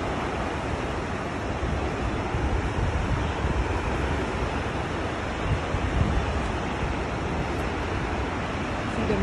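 Takakkaw Falls roars from close range as a constant, heavy rush of water spray, a dense, unbroken wash with wind buffeting the microphone and no voices.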